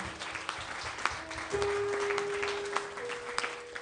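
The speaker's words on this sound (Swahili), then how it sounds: "Yesu makofi." A church congregation applauding for Jesus during a giving service, steady clapping filling the room with a sustained organ-like tone underneath.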